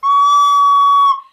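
A recorder with one finger hole not fully covered lets out a single shrill, squeaky whistle, loud and steady for about a second before it cuts off.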